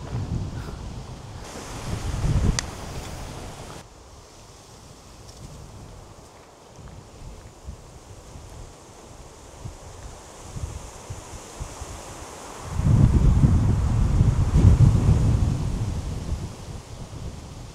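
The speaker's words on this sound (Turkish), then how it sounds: "Ya bu nasıl rüzgar ya?" Gusts of strong wind sweep through a pine campsite, rumbling loudly against the microphone, easing for a long stretch, then surging again into a heavy roar.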